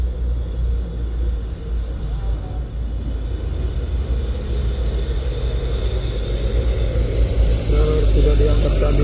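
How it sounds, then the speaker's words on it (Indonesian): A truck loaded with oil palm fruit passes on a hilly road, a loud continuous engine and tire rumble that swells slightly toward the end, with a voice talking over it. "Dan truk bermuatan buah kelapa sawit."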